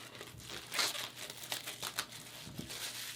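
Crinkling, tearing cellophane stripped from a board game box, a run of close, dry crackles and rips in short bursts over about three seconds, fairly quiet with no voices.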